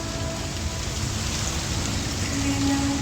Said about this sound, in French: Oh mais il pleut.